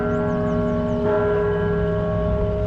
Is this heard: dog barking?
no